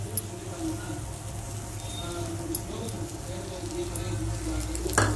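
Ghee sizzles steadily as it goes into peanut halwa cooking in a pan, a continuous close frying hiss with no pauses.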